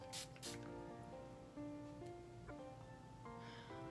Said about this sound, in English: So we're gonna spray, and we're gonna go in with the Farsali Skin Mist.